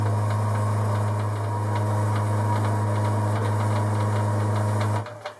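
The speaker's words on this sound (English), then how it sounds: "reverse the lathe" A lathe turning a spindle with an ER20 collet holder runs in reverse, a loud steady motor hum with faint regular ticks throughout, cutting off abruptly near the end.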